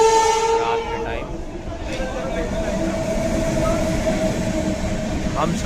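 A Humsafar Express with LHB coaches bound for Prayagraj Junction rolls past, its horn sounding at the start before a steady, loud rumble of wheels and coaches takes over and holds to the end.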